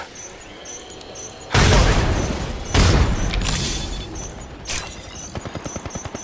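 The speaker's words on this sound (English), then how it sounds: "Look out, grenade." A grenade detonates in Apex Legends Mobile, two heavy booming blasts in quick succession over a background of game effects, with rattling clatter trailing afterward.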